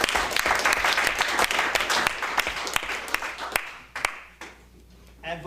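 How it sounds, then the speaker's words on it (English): An event audience gives a round of applause, dense clapping that thins into scattered claps and fades, with a voice starting to speak at the very end. "Please give them a big round of applause."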